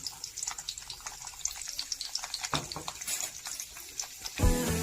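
Garlic dropped into hot oil for Schezwan chutney, a steady crackling sizzle with bursts of spitting and a louder splash of frying near the end, close up with no voices.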